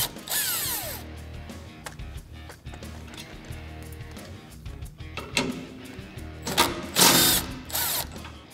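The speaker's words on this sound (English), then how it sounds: "using a 12 millimeter socket, we're gonna release these two nuts here" A 12 mm socket loosens the rear bumper bracket nuts on a 2014-2021 Toyota Tundra. The tool whirs steadily up close with ratcheting mechanical clicks, and a few louder bursts of turning come near the end.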